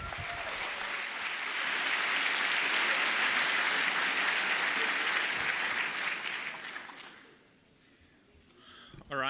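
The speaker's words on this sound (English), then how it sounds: "Please give a warm round of applause to our speakers." Loud, even applause from a conference audience welcoming speakers to a console hacking talk, swelling and holding for several seconds before dying away, followed by a brief sound at the very end.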